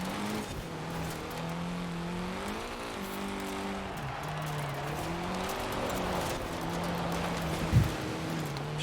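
A Mitsubishi Starion in Forza Horizon 4 drifts sideways across a race finish line, its engine holding a steady, droning hum at near-constant pitch that dips briefly, with a short thump near the end.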